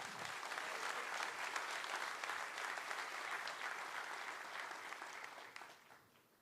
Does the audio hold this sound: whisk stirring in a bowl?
no